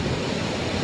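Strong wind and surf roar together at Paradip beach in the evening, a dense, steady wash of noise across the whole short moment.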